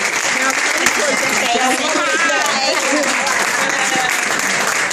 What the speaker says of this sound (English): give a round of applause to my wife